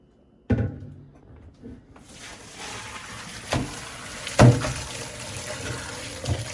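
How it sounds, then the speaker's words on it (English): A big pot of crawfish boil is dumped into a basket: a sudden splash, then a steady pouring rush of liquid with a few louder sloshes and thuds partway through, close by. "So now we're gonna dump this big pot into this basket."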